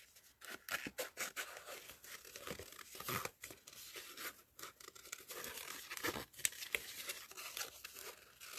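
Scissors cut out a paper image close by, with quiet snipping and crinkling paper rustles in an uneven rhythm and no one talking.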